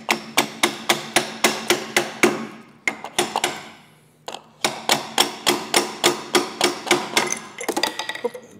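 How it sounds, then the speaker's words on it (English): A hammer strikes a pendulum roller sleeve on car wash equipment to knock it loose, a rapid series of sharp metallic blows in two bursts separated by a short pause, loud and close. "then we're going to need to take a hammer"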